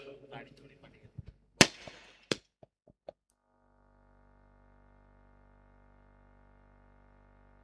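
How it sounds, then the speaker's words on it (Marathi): Firecrackers burst at the opening of a local cricket tournament final: a few sharp, loud cracks and pops spaced over a couple of seconds, with voices before them and a steady hum afterward. "फटाक्यांच्या आतिषबाजीमध्ये"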